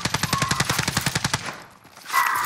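Automatic gunfire in the video game Call of Duty: Modern Warfare: a rapid, loud burst of about fifteen evenly spaced shots, then a short pause and the start of another burst.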